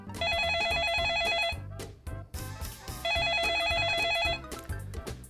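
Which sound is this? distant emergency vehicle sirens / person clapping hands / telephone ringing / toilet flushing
telephone ringing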